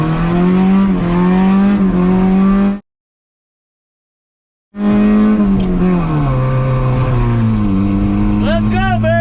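The engine of a Yugo with vacuum leaks revs loudly in rising and falling surges as the gas pedal is pumped, cut by a brief silent gap before the revving resumes at close range.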